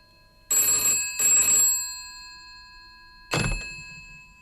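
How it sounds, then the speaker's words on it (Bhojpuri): An old-style telephone bell rings in two quick bursts, pauses, then rings once more, each ring bright and metallic with a lingering tail. "फोन बज रहा है।"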